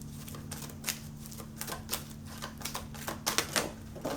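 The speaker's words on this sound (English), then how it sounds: "The whole deck came out of my hand." A deck of cards spills from a hand, making a quick flurry of light, papery clicks and flutters that build toward the end over a faint steady hum.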